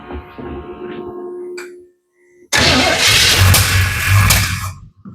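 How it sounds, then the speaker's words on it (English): The engine of an old 1952 Navy truck cranks and fires up, a loud rough roaring run that begins abruptly after a low humming buzz and a short pause, close by. "Let's try firing it up one more time."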